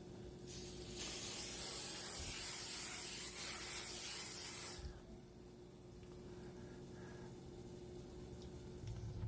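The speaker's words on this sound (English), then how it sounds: "you're going to spray it with spray so it can crisp up" Cooking spray hissing onto cut tortilla pieces before air frying for a chili melt, a loud steady aerosol spray lasting about four seconds, then quieter background noise.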